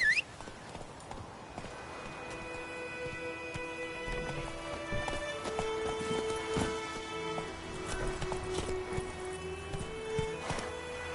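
Clip-clop of Roach the horse galloping in The Witcher 3: Wild Hunt, a steady drumming hoofbeat rhythm under game music, continuous and moderately loud.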